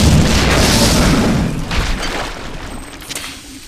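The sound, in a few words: grenade launcher explosion in the video game System Shock 2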